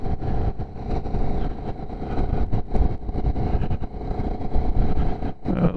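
A Ducati motorcycle rolls along slowly on a road near Diablo Lake, its engine a steady low rumble with wind noise throughout, loud and close, with no one speaking.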